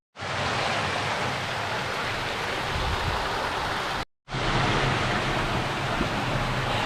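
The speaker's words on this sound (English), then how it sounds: "there's about a 10 to 12 foot waterfall back in here" A 10 to 12 foot underground waterfall pours inside a dark rock cave at Zebra Rock Cascades in the Wichita Mountains, a dense, steady rushing roar broken by a brief dropout before it resumes.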